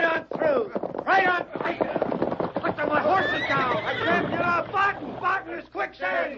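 Horses neighing and whinnying in a frantic old-time radio western scene as riders sink in quicksand, the whinnies mixed with overlapping shouting voices and commotion throughout.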